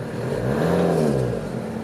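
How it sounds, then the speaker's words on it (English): A 1992 Toyota Hiace LH107 diesel 4WD van engine revs up once, rising and falling in pitch, loud and close with a deep rumbling tone. "give it a couple revs so you can hear what that sounds like."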